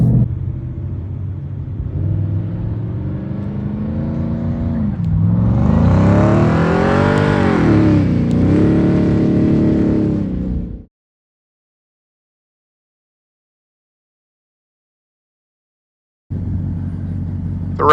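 A 2024 Ford F-150 Raptor R engine roars and revs off-road on a sandy hill, a loud rumbling drone that climbs and surges, then cuts out to silence before the rumble returns.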